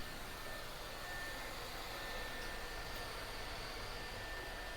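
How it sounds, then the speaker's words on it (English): A handheld blow dryer runs steadily on a live model's hair in a salon training session, a continuous close airy roar with a faint high whine, no talk over it. "I'm gonna play with that blow dryer a little bit more."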